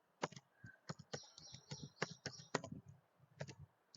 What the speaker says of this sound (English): now we'll type the program, take new file and type the program